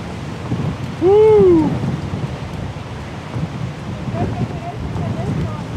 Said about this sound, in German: hier geht ein Wind.